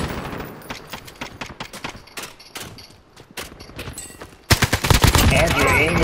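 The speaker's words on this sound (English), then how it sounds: "Yeah, I'm shooting at him." Gunfire in a Call of Duty Modern Warfare Warzone trios battle royale match, with sharp automatic bursts and single shots in quick succession that grow louder and denser toward the end.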